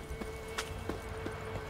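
Horse hooves in the video game The Witcher 3: Wild Hunt, set in Velen, make a few evenly spaced soft thuds over a low ambient hum, moderately close.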